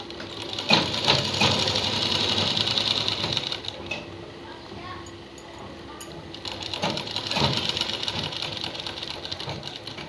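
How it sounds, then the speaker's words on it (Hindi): A sewing machine runs a straight seam across a garment neckline in two close, steady whirring bursts with a brief slowdown between them. "इसके लिए हम बीच में सीधी सिलाई लगाएंगे।"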